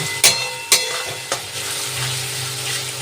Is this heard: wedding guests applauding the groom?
no